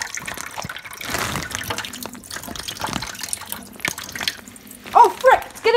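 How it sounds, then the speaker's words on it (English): Water runs and splashes into a sink, a steady washy stream with a few sharper splashes and drips near the end, fairly close. "So now I can just enjoy the water pouring out"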